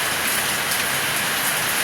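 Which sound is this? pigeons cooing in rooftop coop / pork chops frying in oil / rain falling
rain falling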